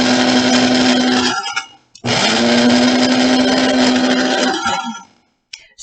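An electric spice grinder whirs as it grinds dried mugwort leaves for moxa floss, running loud and close in two long bursts with a brief stop between them, then winding down.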